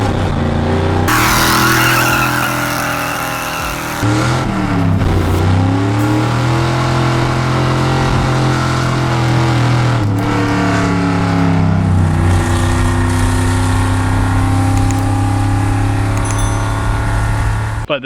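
A 1961 Ford F250 truck engine revs and pulls hard, dropping and climbing in pitch between gear shifts over a sustained loud drive, with faint talk underneath.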